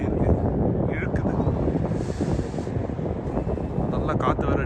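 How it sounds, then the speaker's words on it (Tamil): Strong cold wind buffets the microphone outdoors in snowy weather, a steady broadband roar that holds loud and close throughout with gusty swells. "நல்லா காற்று வேறு அடிக்குதா"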